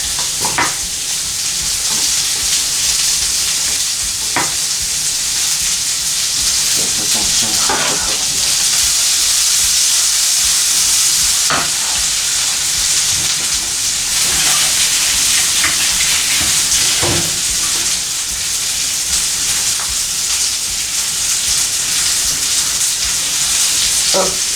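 Shallot and onion frying in a pan, a steady loud sizzle running throughout with occasional sharp clicks and scrapes of stirring utensils.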